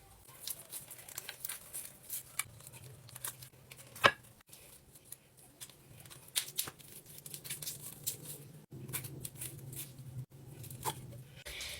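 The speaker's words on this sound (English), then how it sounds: "Chop your corned beef up into chunks" Corned beef being chopped into chunks for corned beef hash, faint irregular knife taps and soft cutting sounds with one sharper click, no speech.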